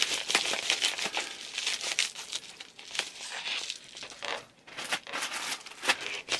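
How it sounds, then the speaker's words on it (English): Scissors cut open a plastic mail package, with dense crinkling and tearing of the packaging that runs close and fairly loud with short bursts and brief pauses. "I guess it's time for the scissors."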